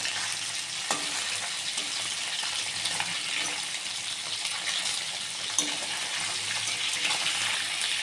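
Continuous close sizzling of rice frying in a wok for Bengali muri ghonto, a steady crackling hiss with occasional clinks of a utensil.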